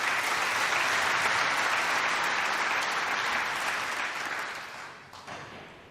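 A crowd at a European Open pool championship match applauds a shot with dense, steady clapping that swells, holds for several seconds, then gradually tapers off.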